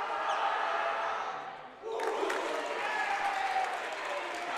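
A loud crowd roars at a boys' high school basketball game between St. Joe's and Bishop Timon, a dense wash of cheering and applause that dips briefly and then surges back, with voices talking over it.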